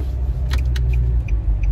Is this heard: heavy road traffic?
yes